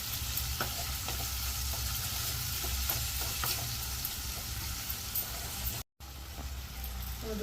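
Mashed tomatoes fry in a pan as the base for a prawn and egg curry. A continuous soft sizzle comes with faint scraping stirs, briefly cut off near the end, and no voices are heard.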